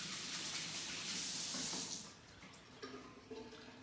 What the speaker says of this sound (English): Quick wash of the hands.